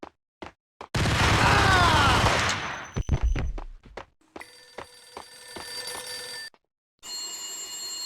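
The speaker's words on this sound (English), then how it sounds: "A beaten-up phone in the entrance hall was ringing." An old, beaten-up telephone rings in an entrance hall in the shooter Max Payne, its electric bell bursts following a loud stretch of gunfire and booms, each ring separated by short silent gaps.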